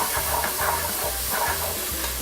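Chopped garlic heating in oil in a hot pan, a steady close sizzle with soft stirring scrapes repeating in a regular rhythm throughout, with no voices.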